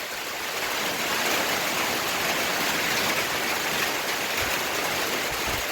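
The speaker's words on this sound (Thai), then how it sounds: "ฝนตกหนัก" Heavy storm rain pouring down in a dense, steady wash of noise with a low rumble underneath, loud and constant without any voices.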